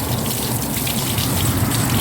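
Water gushes steadily and continuously from a hose or running tap while rinsing a dog, spraying close by, with no voices.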